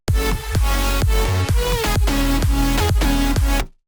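A future house track, unmastered, pounds out steady kick drums with pulsing bass and bright synth chords in a tight repeating rhythm, loud and alone, then cuts off abruptly.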